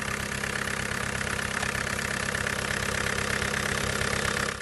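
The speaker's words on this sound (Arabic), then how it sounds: "غادي نسمعوا الصوت ديال المحرك ونشوفوا الصوت" A clean used Fiat Uno car engine running steadily at idle, a continuous even mechanical hum with a faint regular knock, close and moderately loud, with no talking.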